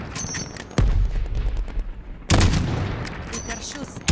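Two heavy, booming gunshots in Call of Duty: Modern Warfare 2019, each a loud sudden blast followed by a rumbling decay, with game ambience between them.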